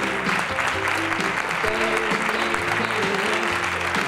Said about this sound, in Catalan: donar-li un fort aplaudiment en tot el nostre cor